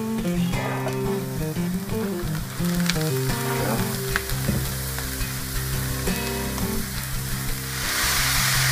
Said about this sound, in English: I'm going to dump in the rest of the chopped vegetables.